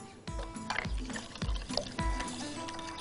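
Milk poured onto darkened caramelized sugar in a pot, a soft close pouring and bubbling with faint sizzling and occasional dull knocks.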